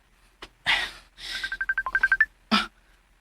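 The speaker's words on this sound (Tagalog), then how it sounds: "May bagting akong cellphone." Cellphone ringing with a rapid run of about a dozen short electronic tone pulses, loud and close, between breathy vocal sounds and a gasp before and after.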